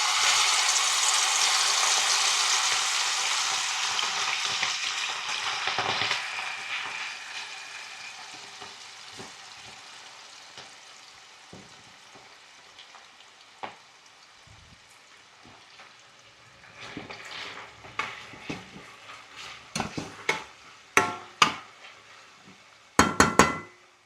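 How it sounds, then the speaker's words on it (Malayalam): Prawns fry in hot oil for a Kerala shrimp pickle, a loud sizzle at first that gradually dies down, followed by scattered clinks and scraping of a utensil against the pan. "ഇനി നമുക്ക് കുറച്ച് ചെമ്മീൻ ഇട്ട് വറുത്ത് വരാം."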